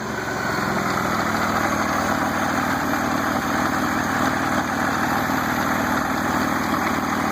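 A 2001 Buick Regal GS engine running rough at idle, a steady uneven mechanical rumble close by with no talk over it.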